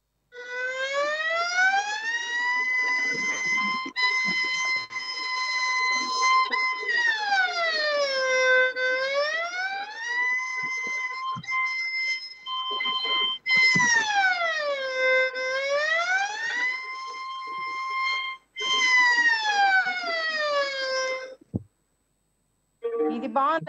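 A Carnatic violin imitates a fire engine siren with long, loud sliding tones that rise and fall in repeated sweeps, broken by brief gaps.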